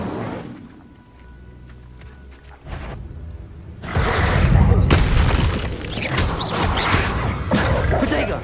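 An Incendio fire spell cast in Hogwarts Legacy: a loud booming whoosh of flame bursts out and roars on for several seconds over game sounds, with a voice speaking nearby.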